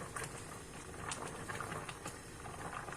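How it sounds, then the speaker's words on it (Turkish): Faint, steady bubbling and light pattering of a pot of crispy pumpkin dessert boiling, continuous and low, with no voices. "Bayağıdır da kaynıyor. 3 saattir falan kaynıyor bu."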